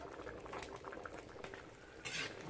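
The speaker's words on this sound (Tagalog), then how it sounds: "Yan, pabulok-bulok to guys." Chicken mechado with carrots and potatoes bubbles in a pot, a soft, continuous close boil with small pops and a brief louder gurgle near the end.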